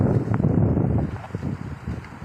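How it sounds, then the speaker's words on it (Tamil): Steady outdoor wind blowing across a quiet, open spot, a continuous broadband rush with gusty swells that stays fairly loud before easing slightly, with no voices. "ரொம்ப நேரமாக இந்த காற்று தான் வந்து என்னை காம் டவுன் பண்ணிகிட்ருக்கு."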